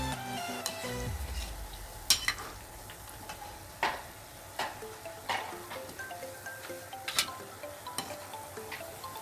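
Gulab jamun fry in oil on a medium flame while a utensil stirs them, giving a faint continuous sizzle broken by sharp metallic taps and scrapes at irregular intervals, close and without talk.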